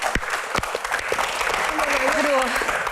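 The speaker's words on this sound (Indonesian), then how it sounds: "Oke, tepuk tangan untuk dokter Boy." A studio audience at an Indonesian Q&A talk show claps for Dr. Boyke, a few sharp early claps swelling into steady applause, with a voice speaking over it toward the end.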